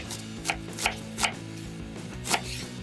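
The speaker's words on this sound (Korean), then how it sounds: "양파를 다져줄 겁니다." A knife strikes a cutting board in four sharp, separate chops while onion is minced, each knock clear and close with quiet gaps between them.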